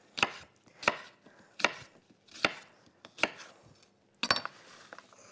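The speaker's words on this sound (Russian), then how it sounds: "Нарезаю на такие вот кубики." Knife chopping apples into small cubes on a board, about six sharp, evenly spaced cuts close to the microphone, the last one a quick double stroke, with quiet pauses between.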